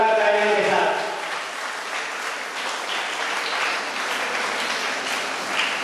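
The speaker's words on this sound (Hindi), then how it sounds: "जोरदार तालियों के साथ" An audience at a public gathering in Bijapur breaks into loud applause just after a brief spoken voice, and the clapping stays even and sustained to the end.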